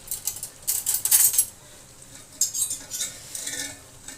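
A metal spoon scraping and clinking against a dum pukht pot while lifting tender cooked meat, a few short close clatters with quiet pauses between.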